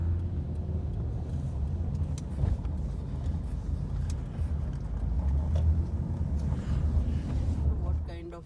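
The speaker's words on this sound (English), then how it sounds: "What kind of a truck is this?" A truck rolls slowly past on a street, giving a steady low engine rumble that swells slightly midway and fades near the end, with a faint voice in the background.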